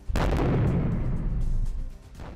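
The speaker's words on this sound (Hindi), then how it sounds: "IDF की मीटिंग के दौरान ही हिजबुल्लाह ने विध्वंसक रॉकेट अटैक किया।" Explosions from a Hezbollah rocket attack on Israeli forces at Raheb on the Lebanese border: a loud, sustained rumbling blast starts abruptly and holds heavy and near for well over a second before fading into lower rumble.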